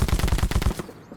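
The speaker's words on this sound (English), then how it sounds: "Oh, it even sounds like paintball guns." Rapid burst of paintball-like gunshots from the farming video game Farm Folks, about a dozen quick, evenly spaced pops firing for under a second before cutting off, loud and alone.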